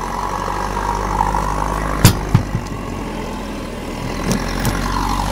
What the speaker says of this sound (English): It's a 5500 watt uh, Generac generator.